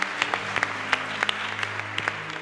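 A church congregation applauding during a worship service, steady close clapping from many hands with a few sharper individual claps standing out.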